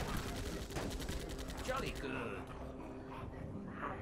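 Rapid gunfire from troops in the zombie survival strategy game They Are Billions rattles in a dense, fast stream for about two seconds, then gives way to quieter game sounds.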